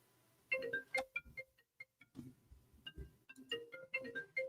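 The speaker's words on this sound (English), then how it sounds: "The bat phone has rung." A phone rings with a melodic ringtone, quiet and close, in a sequence of short tonal notes with pauses between them and no voices.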